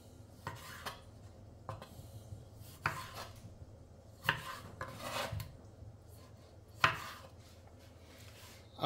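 A knife chopping medium-sized sweet tomatoes into quarters on a board, sharp knocks spaced about a second apart with faint rasping between, close and fairly quiet.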